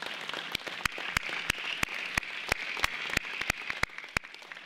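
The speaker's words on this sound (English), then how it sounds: "Let's give them a round of applause." A graduation audience at a school ceremony claps with sparse, separate hand claps spread across the room, steady at moderate loudness over a faint background wash.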